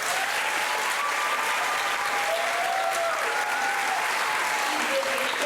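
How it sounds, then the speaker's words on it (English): Steady applause from the crowd at a county poster and essay awards ceremony, continuous dense clapping throughout with faint voices and a whistle-like tone riding over it. "I would be remiss if I did not ask for a special round of applause for this year's contest coordinator, Arabia Shern"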